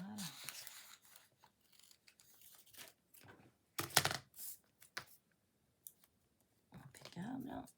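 Scissors snip paper for a Valentine's Day menu card in short, close bursts of clicks and rasping cuts, scattered between pauses, with someone speaking quietly in French around them.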